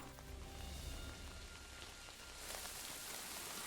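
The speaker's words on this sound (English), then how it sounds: "Okay, now it's raining again." Steady rain pours in Kingdom Come Deliverance 2, a dense close hiss of drops pattering on surfaces with low rumbling underneath, continuous and without talk.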